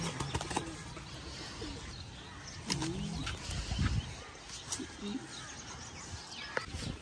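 Pigeons on a house rooftop flap their wings in several short, close bursts, with soft cooing and scattered bird calls, amid a busy outdoor background.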